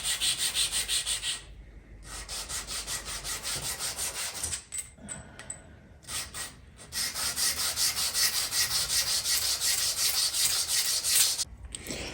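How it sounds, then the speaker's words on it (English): Valve parts from a Dodge 360 engine rubbed back and forth on a sand block, a steady rhythmic rasping scrape in long strokes with a few brief pauses, close and continuous, no talk. "I'm going to take them over to a sand block."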